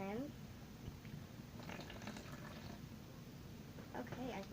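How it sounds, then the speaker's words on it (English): Water pours into a slime mixture in a faint, short splashing trickle, with a voice speaking over it. "I'm adding more water in."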